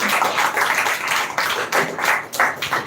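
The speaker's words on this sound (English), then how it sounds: "clap for her." An audience at an education event's grand finale claps for a speaker, a broad burst of hand-clapping that swells and dips in uneven waves for about three seconds, with no talking over it.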